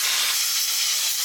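A short, steady blast of air hisses loudly and close up, blowing dust off a piece of sanded turquoise inlay.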